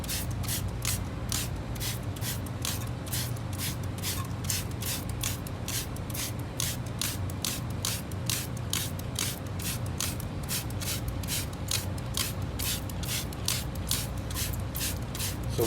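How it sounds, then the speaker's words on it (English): Hand trigger sprayer applying wheel cleaner to a car wheel, a steady run of short, evenly spaced spritzes repeating about twice a second over a low background hum, fairly close. "Now we're going to spray it, and you can see how fast it reacts."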